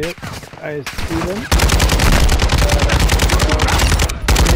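Rapid, loud automatic gunfire in a video game, starting as a burst and then running on continuously with voices talking briefly.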